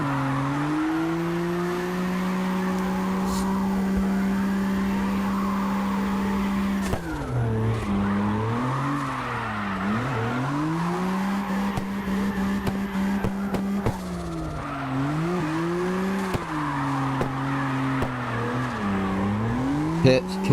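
A drift car in CarX Drift Racing online, its engine droning low like a diesel at low revs while tires squeal through slides, the pitch dipping and rising with each swing; a voice talks over it at times.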